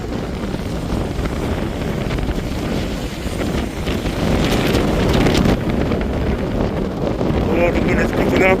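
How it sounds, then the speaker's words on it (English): Strong wind roars steadily during a snowstorm in Brampton, buffeting the microphone with a broad rushing noise that swells louder partway through and stays loud to the end. "Oh, the wind is picking up."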